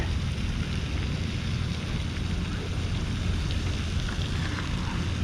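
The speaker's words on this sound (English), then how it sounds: "starting to hear the thunder" Steady rain and a low storm rumble with thunder fill the air outdoors during a bass-fishing outing. The wash of noise is continuous and even throughout, with no clear separate thunderclaps and no voices.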